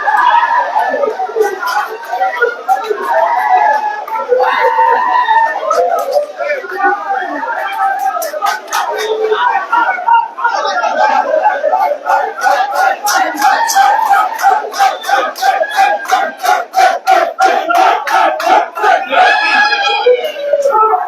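A large crowd chants and roars, with rhythmic clapping building toward the end. Someone talks steadily over the noise.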